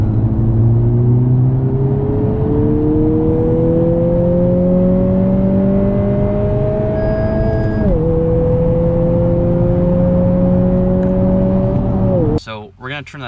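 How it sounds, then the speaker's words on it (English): A 2020 Honda Civic Si engine, with artificially enhanced sound played through the car speakers, drones steadily in third gear around 3,000 RPM, the tone rising slowly with a brief dip and ending in a short jolt. "When you put it in sport mode, it adds artificially enhanced engine noise through the car speakers."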